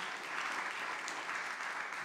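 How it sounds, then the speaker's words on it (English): Steady applause for panelists at the close of an AI forum, a quiet, continuous patter of many hands with no break across the whole stretch. "can you join me in giving a thunderous virtual applause and physical applause for our fabulous panelists?"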